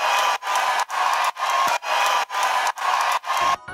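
A roaring crowd sound effect in a future house music track swells in steady, gated pulses, cutting in and out about twice per second with short gaps between bursts.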